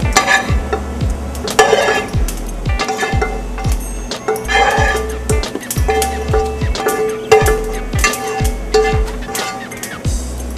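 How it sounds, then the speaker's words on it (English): Lean ground beef browning in a simmering, reduced sauce in a pot on the stove, with repeated spoon scrapes and knocks against the pot and soft bubbling underneath, a voice speaking at times. "let's go ahead and brown the meat"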